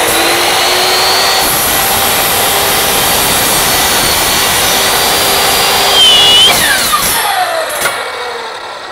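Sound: miter saw cutting at 45 degrees

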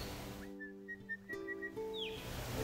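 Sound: five-note call of a red-browed pardalote

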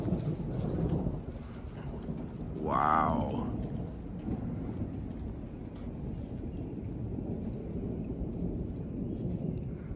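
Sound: severe thunderstorm with thunder and rain

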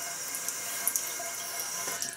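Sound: tap water running while rinsing off makeup

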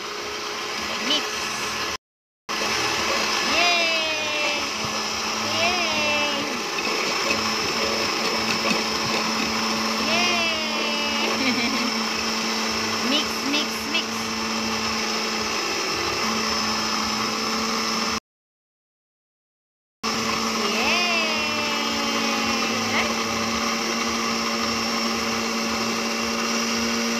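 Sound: blender mixing baby food

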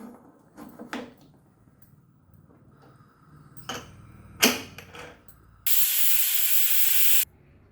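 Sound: pressure cooker whistle releasing steam

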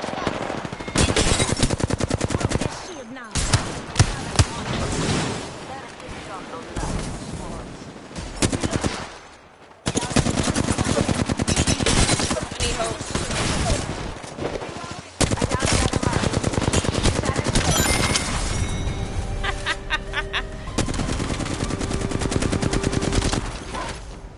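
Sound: gunfire in video game Apex Legends

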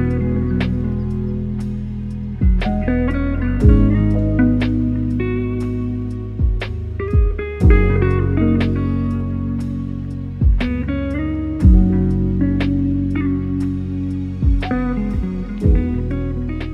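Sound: dreamy lo-fi beat made in Ableton Live

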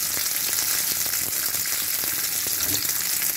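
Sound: onions frying in a pan

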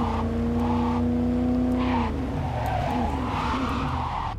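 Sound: car drifting and skidding in video game Cyberpunk 2077

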